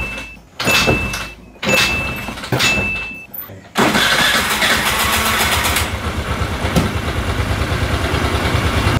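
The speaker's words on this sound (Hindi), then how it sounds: "किक स्टार्ट नहीं हुआ, सेल्फ स्टार्ट करना पड़ा।" A Suzuki Burgman scooter on a cold start: several short cranking bursts from the self-starter with pauses between them, then the engine catches and settles into a steady idle, heard up close.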